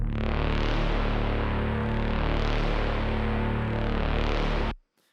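A rendered Reaktor synth patch plays a loud, sustained saw-wave bass rumble for a midtempo track, holding steady for almost five seconds before cutting off abruptly.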